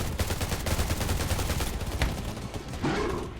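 Rapid, continuous gunfire from the Undawn shooter game during a zombie attack, with dense bursts of automatic shots rattling loud and close for several seconds, then a brief lull before more firing.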